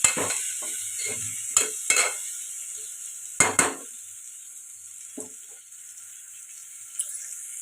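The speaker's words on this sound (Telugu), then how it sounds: "ఒక నిమిషం ఫ్రై అయిన తర్వాత" Tomatoes for tomato dal fried in a pan, with intermittent scraping and clinking strokes of a spoon stirring against the metal over a faint background hiss, the strokes bunched early and thinning out.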